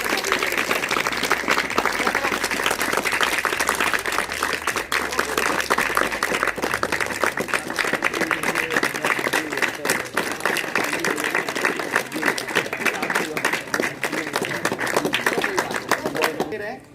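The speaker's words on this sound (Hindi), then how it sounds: "जोरदार ताली। जब तक ताली बजा देगा" Loud, sustained applause fills a birthday celebration for a school madam at a government senior secondary school, dense steady clapping running throughout with a few voices mixed in.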